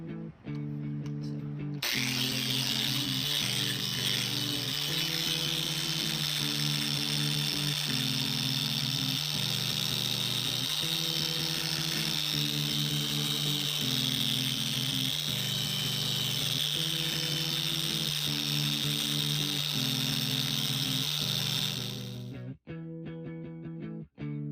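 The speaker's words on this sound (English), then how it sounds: "we are going to polish the paint and polish all of these scratches" A machine polisher works the paint and scratches on a 1987 BMW M6, running as a steady, loud whine with a pulsing lower hum for about twenty seconds before cutting off abruptly.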